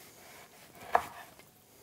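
A knife cuts through a loaf of chocolate biscotti on a cutting board, a single quiet crunching slice with one sharper tap as the blade meets the board, close and alone.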